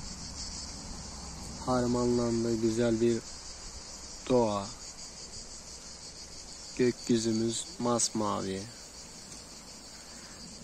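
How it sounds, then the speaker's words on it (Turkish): Crickets chirp steadily in an outdoor nature setting near ducks, a continuous high trill running throughout, while a person talks over it in several bursts. "Cırcır böceklerinin sesleri,"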